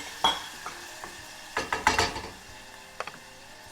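Beans sautéing with tomatoes and onion in a pan, a faint sizzle beneath a burst of close stirring scrapes and clatters, sparse taps before and after.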